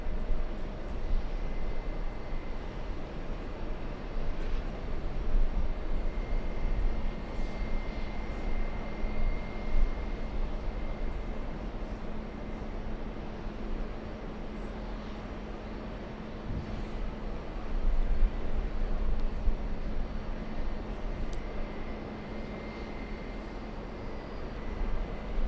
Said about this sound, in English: Let's go for a quadjet, Emirates from Milan.